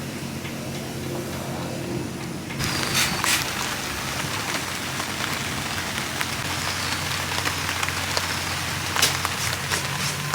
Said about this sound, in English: it started raining already